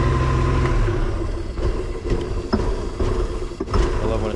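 A Mercruiser 4.3 boat engine runs steadily after a fuel pump, fuel filter, new fuel, Seafoam, plugs and wires service, a low droning rumble close by with a few brief surges.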